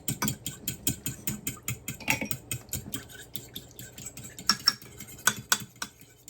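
A whisk beats oil into batter for breading onion rings, a rapid series of light, close clicking taps against the bowl, fairly quiet and with no talk.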